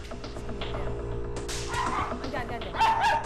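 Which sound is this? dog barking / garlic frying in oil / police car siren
dog barking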